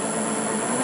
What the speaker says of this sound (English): All you can hear is the whirring of the gear in there